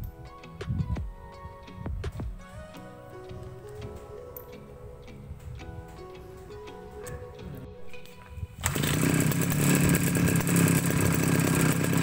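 Brush cutter grass trimmer engine starting to tick and sputter, then roaring to full throttle and running steadily and loud close by.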